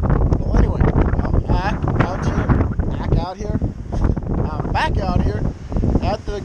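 Wind buffets the microphone on the Barview Jetty on the Oregon coast on a summer morning, a loud, steady roaring rumble throughout with a voice talking over it.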